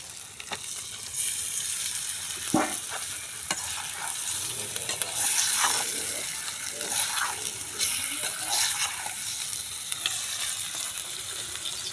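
Shilon fish sizzling as it fries in a pan, a continuous bright crackle with occasional clinks and stirring scrapes, moderately quiet and close.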